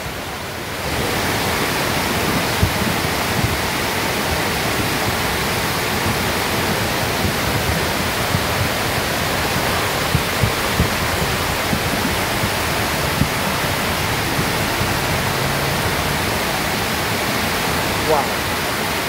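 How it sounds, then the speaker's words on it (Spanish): Flooding river near its banks roaring loudly and continuously, a dense close wash of rushing current with small scattered knocks that could be stones tumbling along the bed, steady throughout after a brief quiet start. "Oí cómo suenan las piedras."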